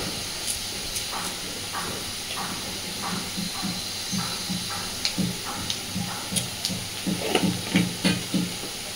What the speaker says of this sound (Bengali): এই তেলের মধ্যেই আমি ফোড়ন দিচ্ছি একটু পাঁচ ফোড়ন